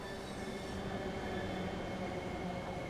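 Steady rumbling drone of a train running in the SCR video game, with a continuous mechanical hum and faint tonal whine at even loudness throughout, no talk.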